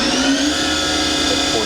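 A Fadal 3016L vertical machining center spindle spins steadily at 3000 RPM, a loud continuous whine with a sustained tonal hum over machine noise, with no breaks across the short stretch.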